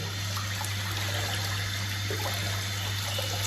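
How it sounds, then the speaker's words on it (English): Steady running water from a tap rinses a custom WoolfBlades straight razor, a continuous even trickle and splash at close range with no pauses. "I'm going to rinse the razor very carefully."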